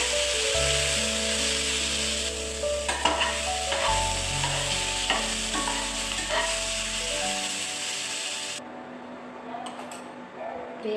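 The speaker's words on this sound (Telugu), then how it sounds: "ఒక పెద్ద సైజు టమాటా ముక్కలుగా పోసి ఆయిల్లో వేయించుకోవాలి" Large tomato pieces fry in oil for an Andhra-style fish curry, a steady close sizzle with occasional spoon stirs and scraping clicks, while a low hum runs beneath before the frying fades near the end.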